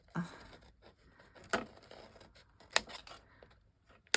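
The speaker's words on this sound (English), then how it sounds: "I just fold it in half, get my scissors, and I just" Scissors cut through a folded waxed tag in a few sharp, separate snips spaced about a second apart, close and fairly quiet, with faint handling sounds between them.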